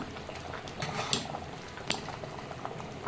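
Rice for prawn biryani bubbling in a pot on the stove, a steady soft boiling murmur with a couple of faint clinks, no talking.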